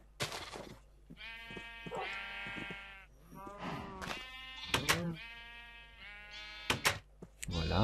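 Sheep in the Minecraft video game bleat repeatedly in a run of drawn-out, wavering cries with short gaps between them, close and loud, alongside a few brief thumps and other game sounds.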